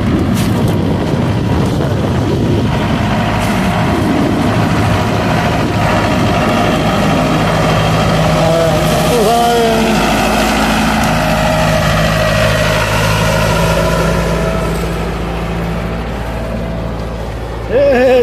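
A tractor engine runs while cutting soil for planting beans in the dry backcountry of northeastern Brazil, a steady close idling drone with wind noise on the microphone and people talking over it.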